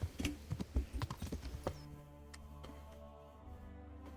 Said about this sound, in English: This is a very nice horse